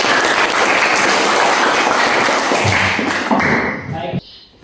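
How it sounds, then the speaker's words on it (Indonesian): Classroom applause from students after a group presentation, a dense wash of clapping that holds steady for several seconds and then thins out and stops near the end. "Mari kita beri aplaus."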